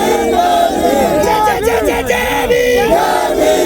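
A large, dense crowd at a Bhim Army rally roars and chants with overlapping shouted voices, loud and close throughout.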